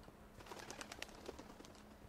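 Faint bird calls and cooing from pigeons or doves in a Minecraft Harry Potter-themed wizardry map, several short chirps scattered over a quiet background with a low steady hum.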